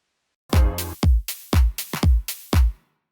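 Lo-fi keys sound programmed in Maschine with shortened notes: a handful of short, punchy chord stabs in a choppy rhythm, each cutting off quickly with a soft, warm decay, close and without talk.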